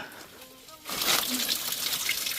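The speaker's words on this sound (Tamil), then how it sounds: "தண்ணி சின்னதாக வந்துக்கிட்டு இருக்கு பாருங்கள்" A small trickle of water flowing along a waterfall path near Vellagavi in Kodaikanal, starting abruptly as a close, steady splashing rush after a quieter opening and continuing to the end.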